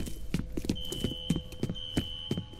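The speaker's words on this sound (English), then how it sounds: "A fire alarm. Triggered at a security office on that floor." A fire alarm sounds in the shooter game F.E.A.R., a steady high electronic tone held under repeated footstep-like thuds, fairly quiet and somewhat distant.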